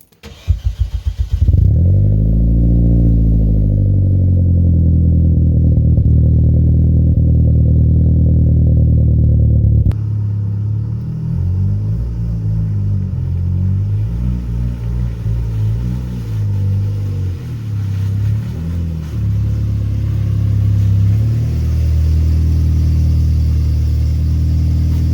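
A car engine starts with a quick crank, then idles loudly nearby before the car is driven forward into place in a home garage area, the engine note shifting as it creeps along and steadies again.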